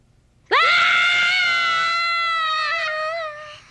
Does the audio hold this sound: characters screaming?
yes